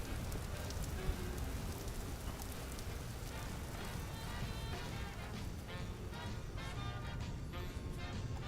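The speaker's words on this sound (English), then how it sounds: "And it just started raining, so cool." Steady rain pours down in a video game, a dense, even hiss of drops on surfaces filling the whole stretch at a constant level, with no voices over it.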